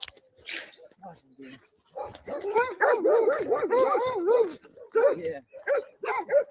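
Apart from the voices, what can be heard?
dog barking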